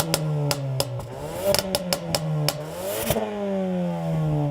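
A Ford Focus ST with a 280-horsepower 2.3-litre four-cylinder engine and an upgraded Mountune exhaust, revving through rising and falling pitches, punctuated by sharp crackling pops and bangs from the exhaust, close and loud.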